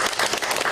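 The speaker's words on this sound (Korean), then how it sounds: "추천 박수 부탁드리겠습니다." Brief burst of loud applause from attendees at a meeting with a National Assembly member for the Incheon underground shopping arcade emergency committee, dense close clapping throughout.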